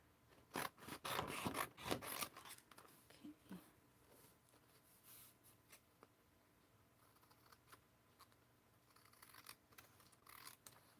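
Scissors snip through a craft backing being cut out for a small pocket, a quiet cluster of rasping cuts early on, then sparse soft rustles and handling noises at close range.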